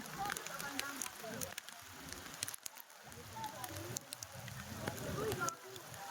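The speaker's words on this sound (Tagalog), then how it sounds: "Di pa numinto yung ulan." Heavy rain pouring steadily in floodwater-filled streets of Montalban, Rizal, with the river overflowing; a constant broadband hiss of downpour and splashing continues throughout, and a person speaks intermittently over it.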